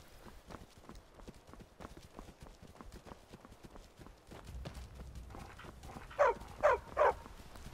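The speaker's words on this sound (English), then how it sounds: "Stop barking at him." A dog in the Skyrim video game gives three sharp, loud barks near the end, after a long stretch of rhythmic, hoof-like footsteps clopping along.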